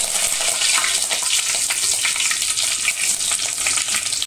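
Curry leaves dropped into hot oil with mustard seeds and cumin crackle in a loud, dense, continuous sizzle, close by and with no one talking.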